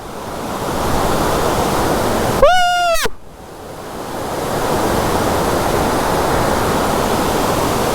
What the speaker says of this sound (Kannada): ವಜ್ರ ಫಾಲ್ಸ್, ಅರ್ಬೆಲ್.